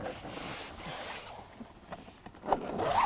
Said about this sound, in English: if the weather's on your side you can completely unzip